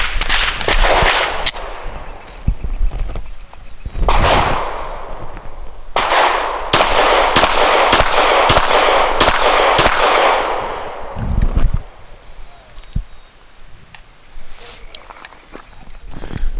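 A Glock 34 pistol fires Norma Hexagon match ammunition at an outdoor range, loud sharp shots in an irregular string with echoing tails, some bunched quickly together, close to the listener.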